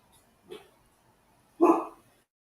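A dog gives two barks indoors, a short soft one followed a second later by a louder, fuller bark, with quiet in between.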